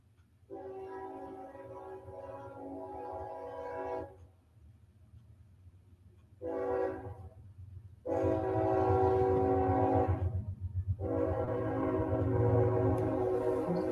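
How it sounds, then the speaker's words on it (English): A train rolls past in the background with long, steady blasts of its horn, sounding in separate stretches with short gaps between them, fairly loud and continuous toward the end. "Is that the train in the background you were talking about?"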